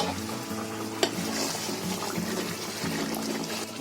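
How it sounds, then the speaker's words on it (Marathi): A thick spinach and chana dal curry bubbles and simmers in a pot, with soft continuous popping and one brief clack near the start. "एकदम मस्त छान उकळी आली आहे बघा"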